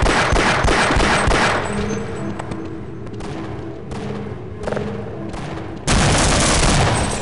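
Shotgun blasts and rapid gunfire ring out in Half-Life combat, dense loud bursts with heavy booms, easing briefly mid-way before a sudden louder volley near the end.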